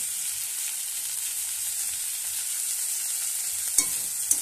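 Ginger-cumin paste frying in oil for a folui fish curry, a steady close hissing sizzle carrying on throughout with a couple of brief utensil knocks near the end.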